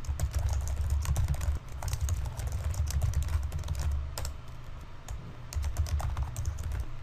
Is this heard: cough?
no